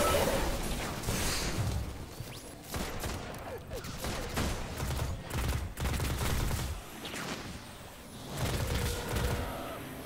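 Grenade blasts and rapid bursts of gunfire from a Destiny 2 firefight, loud and dense with repeated booms and crackling volleys across the whole stretch, a voice briefly heard amid the combat.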